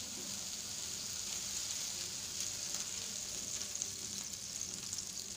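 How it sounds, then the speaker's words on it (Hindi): Butter melts and sizzles on a hot tawa for an egg tawa pizza, a steady soft crackling fry throughout, fairly quiet with no talking. "सबसे पहले हम बटर डाल देते हैं।"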